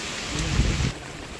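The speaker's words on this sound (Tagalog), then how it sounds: "Lakas ang ulan eh." Heavy rain pours steadily during a flood, a dense close hiss of downpour with a brief swell of heavier drumming midway, and no voices.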